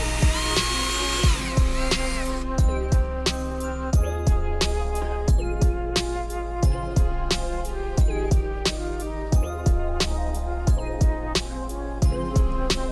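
A power drill bores holes in MDF parts for a children's book display, sounding as a rapid series of short, loud whining bursts with brief gaps between them, close to the microphone.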